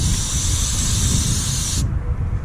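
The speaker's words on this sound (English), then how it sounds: "I'm just gonna kind of spray a little puddle in there and shake it around" An aerosol cleaner can hisses in a steady spray into an idle air control valve for nearly two seconds, then stops, leaving a low background rumble.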